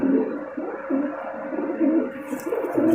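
A Malwai (Punjabi) pigeon coos in a steady run of soft, low, rolling calls, close and alone against faint background noise.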